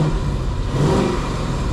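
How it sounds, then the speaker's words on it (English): A car engine with a stock exhaust, likened to a V6, revs in a quick rise and fall, loud and close, with no talking. "Quiet when I rev it sounds like this."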